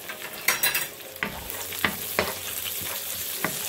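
Chopped garlic sizzles in hot oil as the pan is stirred for a pasta dish, a steady close frying hiss broken by sharp scraping strokes and spatters.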